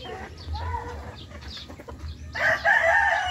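Chickens cluck and call in a farmyard, short scattered clucks followed by a louder, rising crow-like call near the end.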